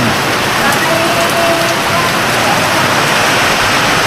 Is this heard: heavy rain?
yes